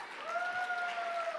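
A gala crowd at a Festival of Trees charity event claps briefly, a soft, steady patter of applause with a faint whistling tone running through it.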